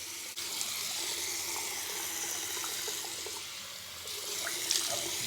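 Tap water runs steadily into a bathroom sink while someone washes their face with plain water, a continuous close hiss with faint splashes and a brief knock near the start, and no talking.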